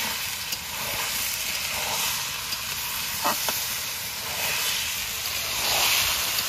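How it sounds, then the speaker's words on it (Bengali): Washed rice and lentils frying in a pan for khichuri, a steady broad hiss and sizzle with a few faint stirring scrapes, close and continuous. "এবার চালটাকে ভালো করে কষিয়ে নেব"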